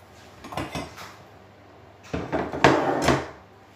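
A knife slices cooked sausage into rounds on a board, giving a few short clattering knocks and clinks in two brief bursts, close and fairly loud with quiet between.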